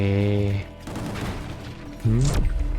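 Gunfire from the video game Gungrave G.O.R.E: short bursts of shots that are partly buried under someone talking over them.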